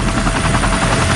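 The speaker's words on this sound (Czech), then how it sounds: "Do akce jsou zapojeny vrtulníky Chinook, aby na ně ze vzduchu schazovali vodu." Chinook helicopters flying over the Fukushima nuclear plant to drop water on it, a loud, steady rotor roar with rapid chopping pulses filling the whole stretch, close and without voices.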